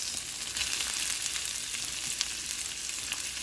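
Asparagus frying in a pan with melted fat, giving a steady, close hiss of sizzling that runs evenly throughout with small crackles and no voices.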